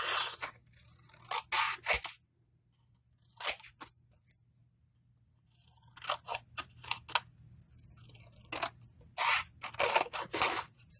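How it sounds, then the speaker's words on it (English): Paper snips and crunches under scissors as a Kiss Me at Midnight piece is cut out for a New Year's Eve collage, with close, crisp bursts of cutting coming in irregular clusters separated by brief quiet pauses. "Let me cut out our Kiss Me at Midnight too."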